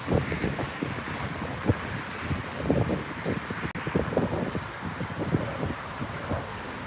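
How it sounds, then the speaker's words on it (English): Strong wind buffeting the microphone outdoors, a steady rough rumble with irregular gusty bursts and rustling, close and loud throughout with no talking. "The wind's pretty rough today."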